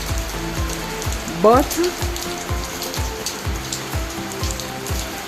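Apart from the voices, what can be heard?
heavy rain from Hurricane Beryl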